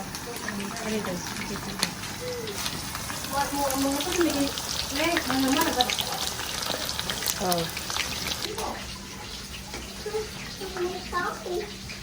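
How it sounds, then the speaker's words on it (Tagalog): Steady sizzling and crackling of chicken frying in hot oil, with voices talking over it and scattered pops throughout. "Ginihina na tag prito sa ato ang fried chicken."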